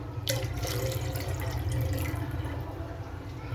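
Custard powder mixed into milk pours from a bowl into a cooking pot, making a steady, soft liquid pour and trickle that runs for the whole short stretch without a break.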